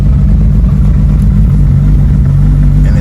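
A cold Mitsubishi Evo 9 with a big block engine and PTE 64mm turbo runs right after startup, a loud, steady, close low rumble that holds without pause and with no talk.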